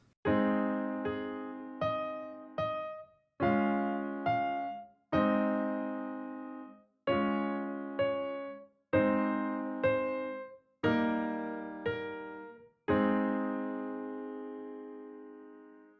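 A run of sustained piano chords played as inversions, about ten strikes, each ringing briefly before the next, with smooth voice leading between voicings, played alone.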